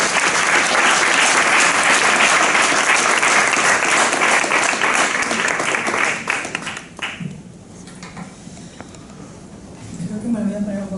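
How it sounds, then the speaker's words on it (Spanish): An audience at a live poetry competition semifinal in Valencia bursts into strong applause for about six seconds, then the clapping thins out and scattered claps trail off before a voice speaks near the end. "un fuerte aplaudiment"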